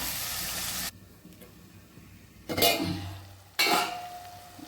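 Onions and tomatoes sauté in a pan with a loud steady sizzle that drops away abruptly, then returns in two bursts of frying hiss with utensil clatter.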